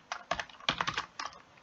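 Bursts of computer keyboard typing while code is written, close-up clicky keystrokes in a few quick clusters with short pauses, and no voice over them.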